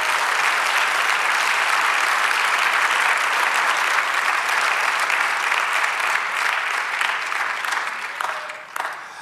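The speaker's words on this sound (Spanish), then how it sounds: "Dale un aplauso con buen ánimo" A church congregation applauds during a sermon, a loud, sustained wash of clapping that carries on for several seconds before gradually thinning out at the end.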